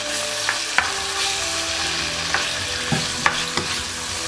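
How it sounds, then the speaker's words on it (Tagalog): Peeled shrimp stir-fry in a hot pan, giving a steady loud sizzle throughout, with a few sharp scrapes and clinks from stirring. "Ang gawin naman natin, stir fry po natin ang ating"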